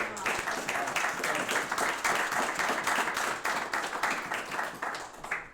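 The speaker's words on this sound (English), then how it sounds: "if everybody would join in applause for this group" A city council meeting audience applauds together, a steady wash of dense, loud clapping that holds evenly for several seconds without a break.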